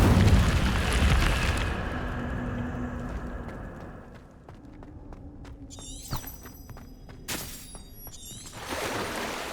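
A fire spell is cast in Hogwarts Legacy, a sudden whooshing burst over a low game backdrop, followed by a few sharp magical chimes and crackles later on; no speech.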